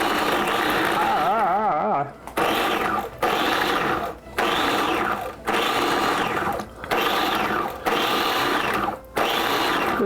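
A food processor pulses butter in about seven short, loud bursts separated by brief gaps, each whir rising and falling, and no talk is heard.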